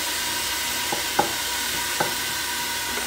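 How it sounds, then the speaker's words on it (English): Onions and garlic sauté slowly over lowered heat for Mexican pozole, making a soft, steady hiss with a few light utensil taps against the pan. "So the onions are getting clear, and the garlic, and it's getting a little brown"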